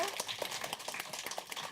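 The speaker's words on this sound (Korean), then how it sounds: "박수 좀 쳐주시죠" Scattered applause from a small lecture audience after a poetry recitation, quiet and uneven individual claps with a voice faintly present.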